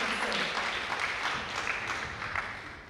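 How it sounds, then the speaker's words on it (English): Sustained applause from a spoken-word contest audience, as listeners keep clapping while a guest walks to the stage. Dense, steady clapping with no break across the whole span. "Please keep clapping till he gets here as he delivers his lesson."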